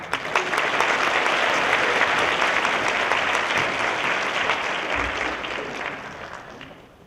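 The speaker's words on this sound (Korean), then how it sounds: "유희성 강사님 나오실 때 여러분들 뜨거운 박수 부탁드리겠습니다." A university forum audience giving warm applause as a lecturer comes to the stage, a full, even wash of clapping that holds for several seconds before gradually fading.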